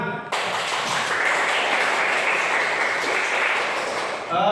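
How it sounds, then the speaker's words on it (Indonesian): A classroom of students bursts into applause, dense continuous clapping that starts abruptly and holds loud and even for about four seconds before cutting off. "Tepuk tangan"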